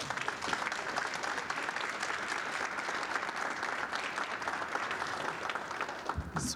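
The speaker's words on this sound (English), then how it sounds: "if we could give a round of applause to congratulate them" Steady round of applause from the audience at a township board of supervisors meeting, even and sustained clapping of moderate loudness from a seated crowd, with no talk over it, tapering off at the very end.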